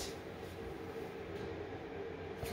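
A passing train gives a steady, broad rumble and rush that fills the whole stretch at a fairly distant, even level, with no voices over it.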